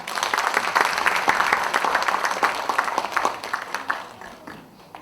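A crowd at an Incheon joint campaign rally for the Justice Party's 2019 deputy-leader election applauds with brisk, close clapping that swells early, holds, then tapers off.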